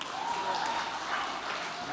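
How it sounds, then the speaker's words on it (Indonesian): Brief audience clapping during a campus seminar on current geopolitics, a continuous, moderately quiet patter of many hands lasting a couple of seconds. "Kok nggak ada yang tepuk tangan sih?"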